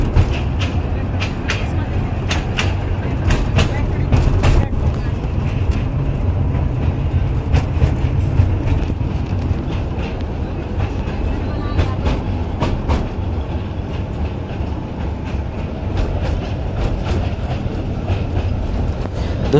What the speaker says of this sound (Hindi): ये क्रेन वाली ट्रेन है।